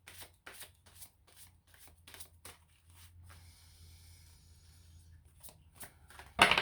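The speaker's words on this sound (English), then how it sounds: "throwing the cards all over the place here" Tarot cards shuffled and handled, giving repeated crisp riffling and slapping bursts in an irregular rhythm, close and fairly quiet, with a soft low hum underneath and a sharper clatter at the end.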